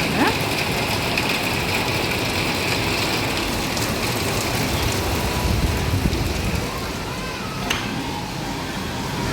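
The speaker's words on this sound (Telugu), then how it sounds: "ఇక్కడ పెద్ద వర్షం అయితే వస్తుంది" Heavy rain pours steadily, a dense, loud, unbroken hiss that fills the whole stretch with only a slight dip near the end.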